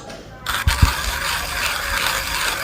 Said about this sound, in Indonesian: Kita akan giling.